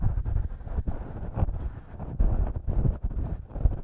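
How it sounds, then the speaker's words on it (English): Gusting wind buffets the microphone at an outdoor curling match, with uneven rumbling surges rising and falling throughout. "And the wind is whipping."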